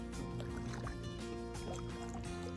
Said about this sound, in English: So I'm using this kayak paddle on the shortboard.